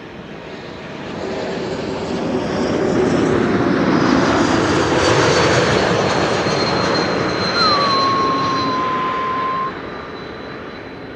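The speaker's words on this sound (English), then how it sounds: "an E2 Embraer 195 arriving from Oslo is next to arrive" An Embraer 195 E2 jet arrives at Amsterdam Schiphol airport, its engine roar swelling as it approaches and holding loud and steady with a faint whine before fading off, with no voices heard.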